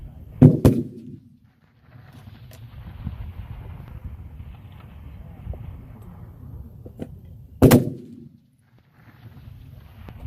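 Rifle shots crack out from a neighbouring shooter at a 1000-yard F-class practical match. Two sharp, loud reports come close together at the start and one more follows later, with quiet wind noise in between.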